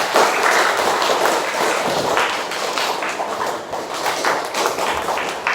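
A class of students clapping their hands together after a recitation in a classroom, a dense, steady patter of many claps that stays loud and close for several seconds before thinning slightly toward the end.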